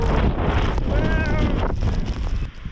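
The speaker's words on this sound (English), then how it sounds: "It is windy and cold" Strong wind buffets and roars across the microphone during a spring blizzard, loud and continuous, with a brief whistling tone in the gusts and no talking.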